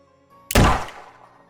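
A single sharp, heavy gunshot-like bang after a quiet start, booming close and loud before decaying quickly into a short tail.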